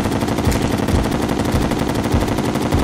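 Rapid automatic gunfire from a weapon in the video game Terraria, a dense continuous stream of shots at a steady fast rhythm, loud and close, with no talk over it.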